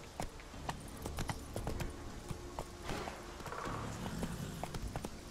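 Steady clip-clop of horse hooves from The Witcher 3, a brisk repeating rhythm of sharp hoof strikes over soft game ambience, close and moderately loud throughout.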